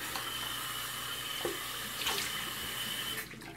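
Tap water runs in a steady, close stream while a shaved head is wetted down, with a few brief splashes as hands move through the flow before it tapers off at the end.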